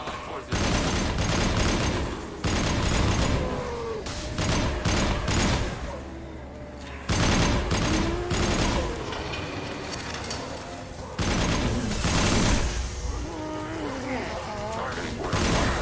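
Gunfire in the Mass Effect 2 video game comes in repeated bursts of loud shots and impacts, with short pauses between volleys, and in-game voices speak through parts of the fighting.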